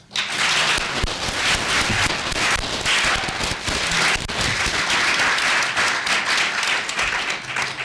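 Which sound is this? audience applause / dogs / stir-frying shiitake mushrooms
audience applause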